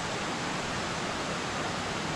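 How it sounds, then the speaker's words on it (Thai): A waterfall rushes in a continuous, even broadband roar, close and steady throughout with no other sounds breaking through. "ได้รับความชุ่มชื้นของน้ำตก"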